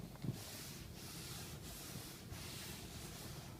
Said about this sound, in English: apply some to a cloth and then rub it in with the grain